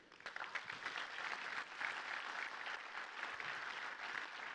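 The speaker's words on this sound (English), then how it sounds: "while you're applauding, please can I have a big round of applause" A conference audience claps together in a dense, even wash of applause that holds steady for several seconds, fairly distant and without voices on top.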